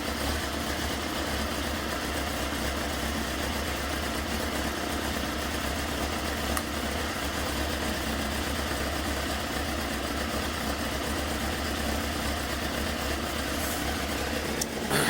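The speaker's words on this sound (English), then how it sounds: "Getting some heat in it, so all we've done is change the plugs and test the HT leads, and we're looking for a misfire." A 20-year-old Honda CBF 600 motorcycle engine idles steadily with new spark plugs, a constant even drone close by with no talking and only slight variation over the whole stretch.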